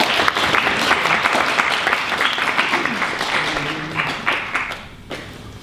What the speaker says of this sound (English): So applause for this amazing